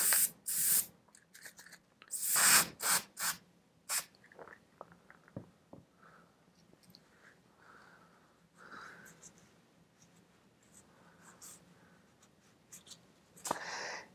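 Cleaner sprayed onto a Sebenza 31 folding knife during maintenance: several sharp, bright hissing spray bursts close up at the start, then quieter scattered clicks and handling noises of the knife under a low background hum.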